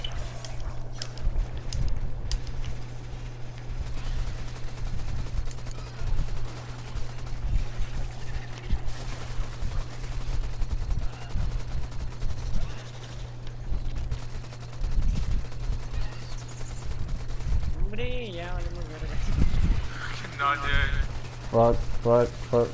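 Gunfire in the shooter game Warframe, rapid bursts of shots layered over a constant low hum through most of the stretch, with metallic sweeping sounds near the end and a voice talking over it.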